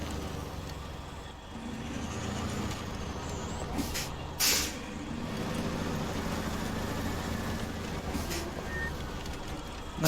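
Truck air brake hiss in SnowRunner, set in the Meteor region: a single short sharp release around the middle, over a steady low engine rumble with game ambience.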